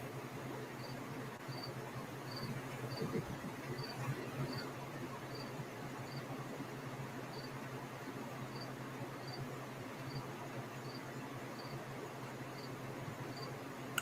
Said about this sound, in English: I hear the crickets in the background